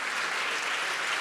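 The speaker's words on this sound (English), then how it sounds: "give a sustained round of applause to Jane, to Johnny, and from LA, Taylor" Audience applause at the close of a journalism panel discussion, a dense, steady wash of clapping filling the whole moment at even loudness.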